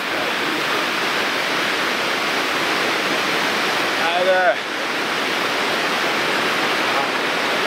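Trollfoss waterfall rushing, a loud, steady roar of falling water that holds evenly throughout, heard close by, with someone speaking briefly over it midway.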